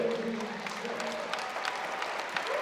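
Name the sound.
crowd applause at wrestling match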